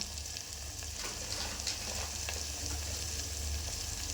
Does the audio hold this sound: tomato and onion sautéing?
yes